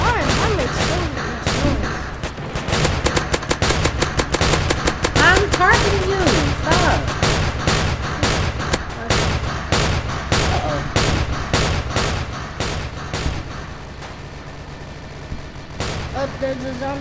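Dense bursts of video game gunfire in Roblox crackle in rapid volleys during a zombie fight, loud and nearly continuous for most of the stretch, with players talking over it.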